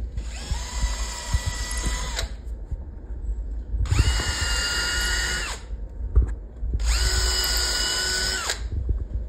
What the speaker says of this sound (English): we're going to pre-drill it.